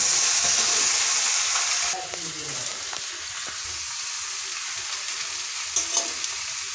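Chicken pieces fry in a pan with a modest amount of oil while being stirred. A loud, steady sizzle is broken by scraping stirs and a few clinks.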